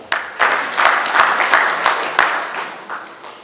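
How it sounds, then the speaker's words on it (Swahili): A teachers' union meeting audience claps in a short burst of applause, sharp individual hand claps standing out over a dense crowd patter that fades slightly toward the end. "Naomba mjipigie makofi"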